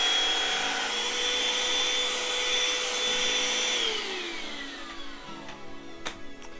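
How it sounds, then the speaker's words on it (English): Craftsman 20V cordless vacuum running on high over carpet, a steady whining motor drone that drops in pitch partway through as the load changes, followed by lower running and a few faint clicks. "Let's run this on high and really just agitate the carpet a whole bunch, and let's see how it does."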